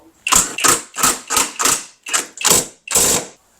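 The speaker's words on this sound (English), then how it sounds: "we're just going to loosen up these nuts on the strut" Ratchet wrench loosening strut nuts on a Range Rover, eight distinct bursts of rapid clicking in a steady rhythm, each a short buzzy ratchet stroke separated by brief pauses, close and clear with no talk.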